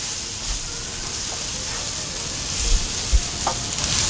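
Carrots, beans, cauliflower and potatoes sautéing in a pan, a steady close hiss and sizzle with occasional soft clinks and thuds from stirring, continuous with no voice.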